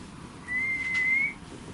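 A single steady whistle held for just under a second, thin and clear, over a quiet hissy background, during a ghost hunt at The Carlton.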